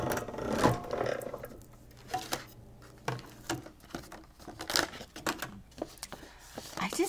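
A Sizzix Big Shot die-cutting machine cranking an embossing folder through, heard as a close run of uneven clicking and rattling bursts with faint background voices at moments.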